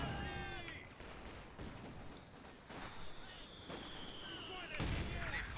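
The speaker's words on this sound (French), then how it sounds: "Je bombarde. Même si j'ai qu'un canon." Artillery shelling in the Company of Heroes 2 video game, with several booming impacts and crackling bursts spread through the clip over a continuous battlefield din, while someone talks over them.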